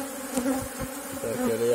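Honeybees buzz close by during an artificial swarming split in beekeeping, a steady droning hum with wavering pitch as individual bees pass near, moderately loud.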